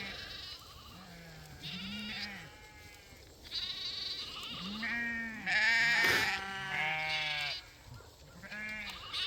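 Several sheep bleat repeatedly, overlapping calls near and far, with a steady outdoor background hum.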